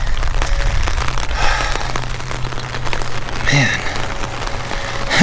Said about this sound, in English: Rainy, gray, overcast, gloomy, flooding, you name it, we got it.